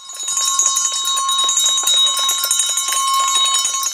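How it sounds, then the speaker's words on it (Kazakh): A school bell rings continuously at a last-bell ceremony for 9th and 11th graders, its bright metallic clangs repeating rapidly and loudly throughout with steady ringing tones and no talking. "қоңырау сыңғырын тыңдады"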